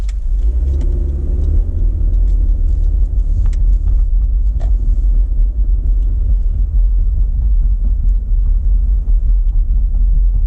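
From inside a car on a suburban street in Sterling Heights, Michigan, another car passes as a steady, loud road rumble with engine hum that swells early and then settles into constant low noise.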